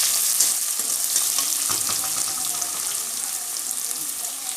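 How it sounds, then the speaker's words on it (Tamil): Finely chopped onions frying in hot oil in a kadai with urad dal and dried red chillies, giving a steady, close sizzle that stays loud throughout, with faint stirring scrapes on top. "பொடியாக நறுக்கி வச்ச வெங்காயம் போட்டுக்கலாம்."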